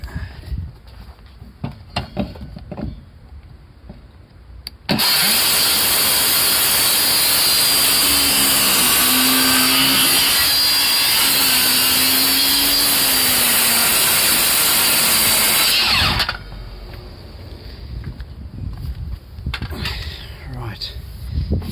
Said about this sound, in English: I've got a bit of melamine here, swollen, got some moisture on, got to trim this edge off.